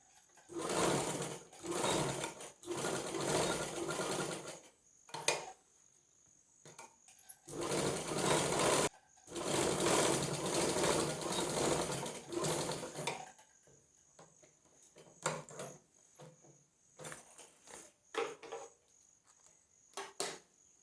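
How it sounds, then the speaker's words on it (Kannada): A sewing machine stitches a zipper purse in bursts of rapid mechanical whirring, several runs of a few seconds each separated by quiet pauses and short clicks, fairly close with no talk. "ಇಲ್ಲಿಂದ ಹೀಗೆ ಸುತ್ತಲೂ ಹೊಲ್ಕೊಂಡು ಬರ್ತೇವೆ"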